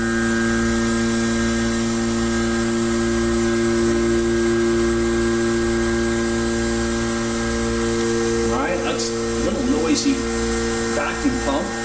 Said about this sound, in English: Vacuum pump. I'll have to check, it might be vibrating on the shelf.